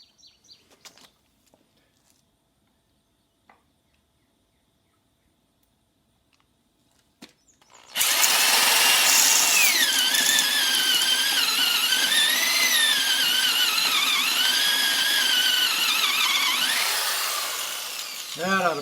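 A power drill countersinks keel bolt holes in a small Haven 12 1/2 sailboat, starting after a few quiet taps and running as a loud, steady, shrill squealing cut for about ten seconds before winding down.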